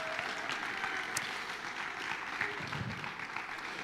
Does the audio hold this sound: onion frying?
no